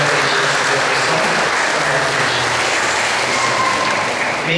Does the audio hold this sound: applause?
yes